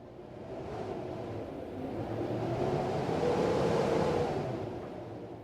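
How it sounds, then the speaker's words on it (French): Strong wind blows in a broad roaring whoosh, swelling gradually to a peak midway and then easing off, alone without voices. "Ça, c'est un vent qui souffle fort"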